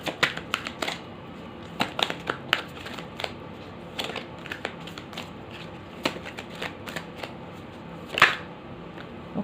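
Tarot cards being shuffled by hand, a close run of irregular crisp riffling clicks and soft slaps spread over several seconds, with one louder flurry near the end and no talking.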